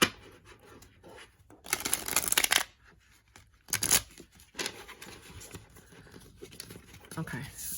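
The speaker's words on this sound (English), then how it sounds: "I feel like I have to shuffle it." Tarot cards being shuffled by hand in bursts of riffling and papery crinkling, fairly close, with pauses between bursts and no speech over them.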